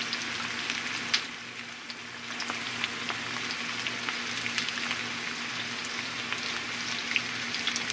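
Asafoetida dropped into hot oil, a steady close sizzle and crackle of frying with scattered sharp pops, no voices over it.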